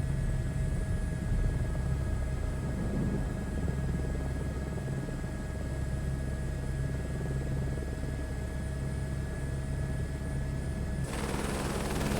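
Steady, close helicopter rotor and engine drone over the mountains of Lahaul and Spiti, a constant broadband roar with a low throbbing hum that shifts in tone near the end.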